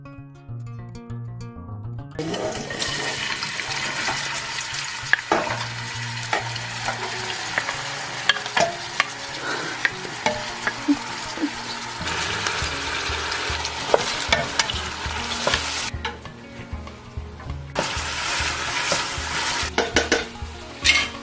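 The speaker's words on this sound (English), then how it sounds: "We're going to start with sauteing our onions in the Ethiopian butter." Onions sauteing in Ethiopian spiced butter for doro wat chicken stew, a loud, bright sizzle that starts suddenly after a quiet moment, with repeated utensil clinks and scrapes as they are stirred, briefly dipping before flaring again.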